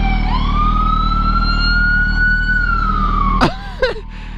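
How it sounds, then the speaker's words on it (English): An ambulance siren wails loudly in a long, steady rising-and-falling tone close by, then cuts off abruptly with a couple of short chirps and blips at the end. "The lady driving her ambulance, sirens blaring, puts her sunglasses down."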